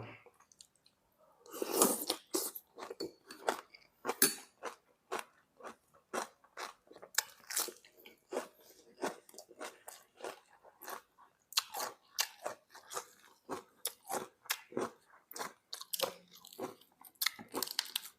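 Crisp, repeated crunching and chewing of fried mountain shrimp, soaked in soda and eaten with sauce, close to the mic with steady bites and no talking.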